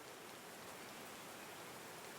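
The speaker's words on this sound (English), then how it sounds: "These drops of rain are so refreshing." Steady rain falling in the video game Call of the Sea, a dense continuous hiss of drops without pause or variation, close and even, with no talking.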